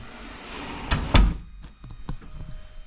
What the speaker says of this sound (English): I did not check whether the door will shut.